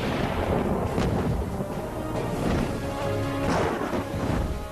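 Dense, continuous rumbling thunderstorm effect standing in for violent electrical storms on Saturn, with rolling low crashes and booms sustained throughout at high loudness, no voices.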